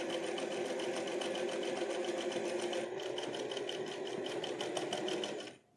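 A sewing machine stitches a denim jeans panel in one steady, loud, continuous whir with a fast rhythmic needle patter, running unbroken until it stops abruptly at the end.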